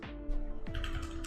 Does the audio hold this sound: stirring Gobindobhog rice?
no